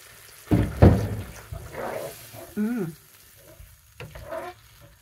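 Starchy pasta water poured into a pan of Japanese-style mentaiko mayo pasta with ham, giving short bursts of sizzling and splashing between stirring scrapes, close and intermittent over a quiet background.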